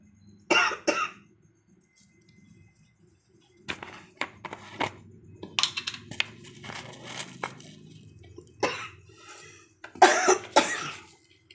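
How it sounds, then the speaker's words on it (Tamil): Repeated coughing fits, several short harsh coughs spread across the clip, close by, with quieter rustling between them. "வீடியோ எடுக்க வந்தால் எப்போ பாரு எனக்கு இருமல் வருது"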